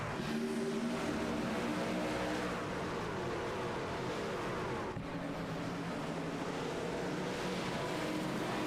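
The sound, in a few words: racing trucks starting a race at Homestead Miami Speedway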